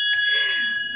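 A single bell struck once, a bright clear ring with sustained overtones that slowly fades, loud and close with nothing else sounding.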